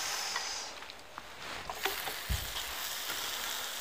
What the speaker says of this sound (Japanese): 玉ねぎを ソテーしていきます